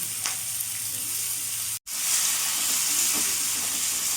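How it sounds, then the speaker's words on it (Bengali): Chopped onions sizzle and crackle steadily in hot oil with black cumin seeds, close up, with a brief silent gap partway through. "পেঁয়াজটা একটু ভাজা ভাজা করে নেব।"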